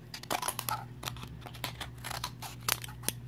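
Multifunction kitchen shears snip through cardboard in a series of close, crisp cuts with faint crinkling, a low steady hum running underneath.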